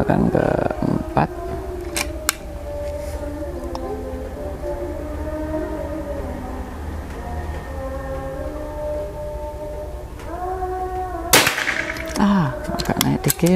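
A sharp, loud crack from a new 2024 PCP air rifle fired in an accuracy test. It cuts through a steady background hum, with a few smaller clicks earlier and some faint voices around it.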